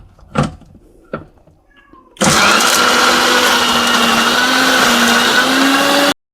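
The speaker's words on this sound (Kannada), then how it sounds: "ಇದನ್ನು ಗ್ರೈಂಡ್ ಮಾಡ್ಕೊತಿದ್ದೀನಿ" Mixer grinder whirring loudly and steadily at close range as it grinds a spice mix for village-style fish curry, starting abruptly after a few faint knocks and running for about four seconds before cutting off.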